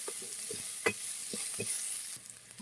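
Onions frying in oil with bay leaf produce a faint, continuous sizzle, broken by several soft, spaced scrapes and taps of stirring.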